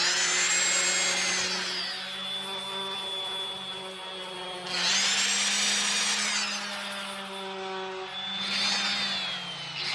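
A power drill whines as it pre-drills old holes in the wood of a cedar strip boat, the pitch rising and falling over several surges, close and loud with no talking.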